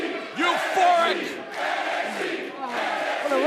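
A euphoric crowd roars at a WWE NXT Tag Team title match between Moustache Mountain and the Undisputed Era, a sustained swell of cheering and shouting that rises and falls in waves.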